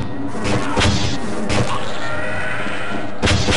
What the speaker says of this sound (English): You ain't gonna get away from my heat missiles